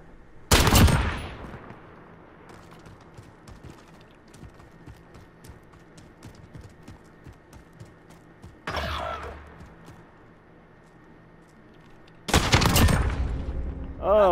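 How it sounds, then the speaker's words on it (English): Sniper rifle shots in a snipers-only online shooter gunfight, a few loud sharp cracks spaced several seconds apart, with quieter game ambience and faint clatter between them. "Oh, what? Gunfight."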